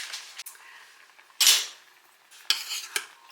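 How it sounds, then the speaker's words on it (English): A metal tray of chicken wings clanks against oven racks, with a sharp scrape-bang and then a second metallic clatter and knock, close and loud against an otherwise quiet kitchen. "Let's put these back in the oven."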